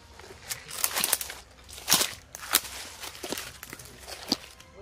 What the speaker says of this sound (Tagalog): May naglalakad pa rin.